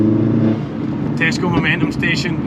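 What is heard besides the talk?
Mini Cooper S engine running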